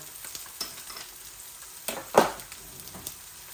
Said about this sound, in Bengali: এই রসুনগুলো আমি শুটকির মধ্যে দিয়ে দিচ্ছি